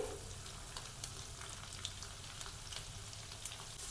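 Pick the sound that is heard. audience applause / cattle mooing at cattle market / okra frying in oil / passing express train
okra frying in oil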